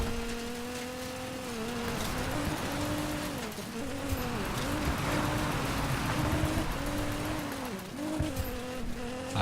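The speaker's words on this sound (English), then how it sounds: "I'm off-road in a race car." A race car tears off-road in Need for Speed Payback, its engine holding a steady, loud drone with wavering pitch as it drifts and shifts, alone and continuous throughout.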